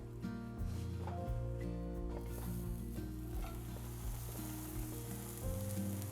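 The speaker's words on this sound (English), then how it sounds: "We're gonna put it in a hot frying pan." Steady frying sizzle of an apple and Gouda grilled cheese sandwich in a hot frying pan, a continuous crackling hiss with a low hum underneath and occasional faint clicks.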